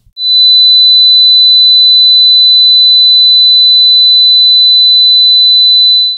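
A pure 4000 Hz sine test tone holds steady and loud for about six seconds, alone with no other sound, starting and stopping cleanly.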